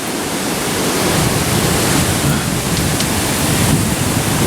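Floodwater left by Typhoon Megi in Taiwan rushes down a mountain valley, a loud, unbroken roar of churning water filling the whole stretch with no voices.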